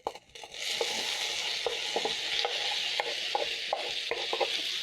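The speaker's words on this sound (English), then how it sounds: "I'm going to add in my tomatoes in my pan." Chopped tomatoes dropped into a hot pan of cooked onions and garlic, setting off a loud, steady sizzle with a few scraping stirs of a utensil, no voices.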